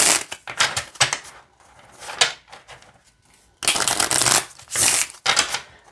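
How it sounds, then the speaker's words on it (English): A Lenormand card deck is shuffled in several quick riffling bursts, crisp and close, separated by brief pauses. "So I don't have an issue shuffling these decks"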